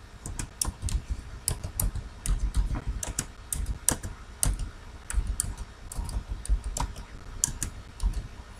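A password is typed on a computer keyboard, a quick run of crisp key clicks in irregular bursts with short pauses, close and fairly quiet with no talking.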